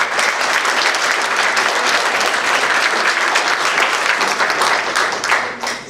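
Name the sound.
audience applause at community meeting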